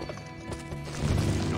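Horse hooves pound during a jumping exercise in the video game Gun, a rapid clip-clop gallop mixed with game music and effects, growing slightly louder toward the end.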